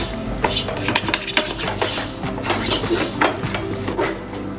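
A utensil scrapes and clatters steadily against a pan while coriander powder masala is stirred and toasted for beef, close-up, with a soft sizzle underneath.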